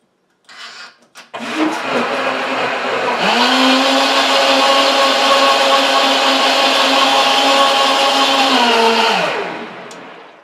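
A Philips HR3868 high-speed blender roars up to full speed, whining loudly and steadily for several seconds before spinning down; a few short clunks come before it starts.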